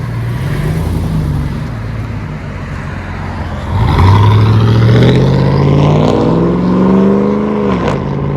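Road traffic with a loud, close engine that drones and then surges as it accelerates, its pitch rising and falling through gear changes, with no talking.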